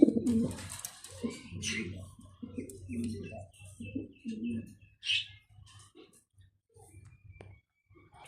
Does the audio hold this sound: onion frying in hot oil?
no